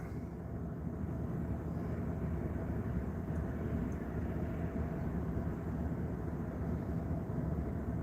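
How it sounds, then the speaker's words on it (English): A train more than a mile away, heard as a faint, steady low rumble that holds evenly throughout, distant and alone with no voices. "I hear my 7 o'clock train."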